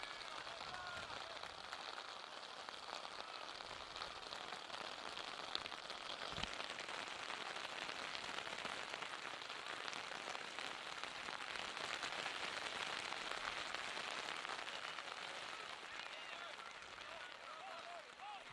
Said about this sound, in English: the rain now starts to get a little bit more heavier here